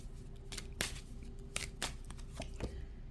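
Tarot cards being pulled and laid down by hand: a quiet series of sharp card snaps and slaps, irregular and close, with soft shuffling between them and no talking.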